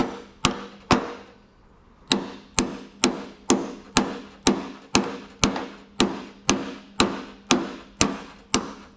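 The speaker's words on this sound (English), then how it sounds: "I got to line up this bushing to where when I tap this, the pin keeps going all the way through." A hammer taps a door hinge pin through a bushing on an 82-92 Camaro, striking about fifteen crisp, ringing metallic blows close up: two, a short pause, then a steady even rhythm of roughly two per second, with no voices.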